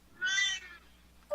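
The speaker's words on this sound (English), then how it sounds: "Oh, a cat." A cat gives one clear meow, rising and falling, followed by the start of a second cry, close and alone in a quiet room.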